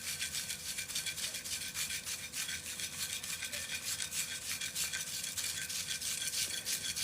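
White pigment being ground into a smooth paste, a close, soft, gritty rubbing in steady repeated strokes with a sandpaper-like scratch, continuous and fairly quiet for seven seconds.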